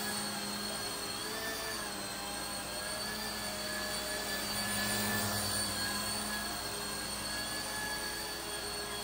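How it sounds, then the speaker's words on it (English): A small JJRC Dusk four-channel toy RC helicopter flying indoors, its steady high-pitched rotor and motor whine holding constant and close with no voices. "Go ahead and bring it in for a landing."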